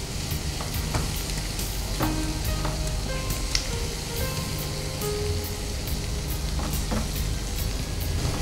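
Stuffed fish fries in a pan with a steady, loud sizzle and crackle throughout, dotted with occasional sharp pops and scrape-like ticks, and no talking.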